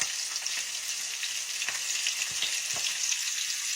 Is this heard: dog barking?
no